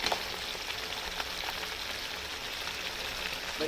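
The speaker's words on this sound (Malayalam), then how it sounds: "നമ്മുടെ ഗ്രേവി നന്നായിട്ട് തിളച്ചിട്ടുണ്ട്. ഇതിലേക്ക് നമ്മൾ നേരത്തെ വറുത്ത് വെച്ചിരിക്കുന്ന കൊഞ്ചിട്ട് കൊടുക്കാം." Steady, dense sizzling and bubbling throughout as fried prawns are added to a boiling vindaloo gravy, with no voices.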